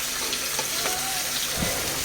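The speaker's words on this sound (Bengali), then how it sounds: "মাছের মাথা ভাজা হচ্ছে" Loud, continuous sizzle of fish head frying in oil, with a few scraping stirs and crackles throughout.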